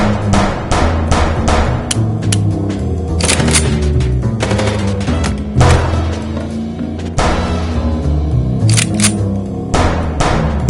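Gunfire in the video game Chicken Police: loud, close bursts of rapid automatic shots and scattered single cracks that keep going with short gaps, with no talk over them.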